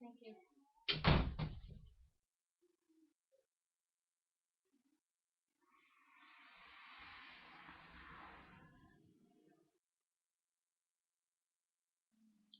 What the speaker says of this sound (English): the dog is knocking again